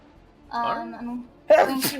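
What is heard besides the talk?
sneeze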